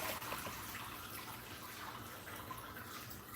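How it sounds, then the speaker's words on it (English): A Reef Octo return pump in a reef aquarium blasting water, a steady, fairly quiet rushing and splashing of flowing water, continuous throughout with no voices. "the reef octo turned on and started blasting water"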